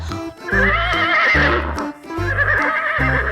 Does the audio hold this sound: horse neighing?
yes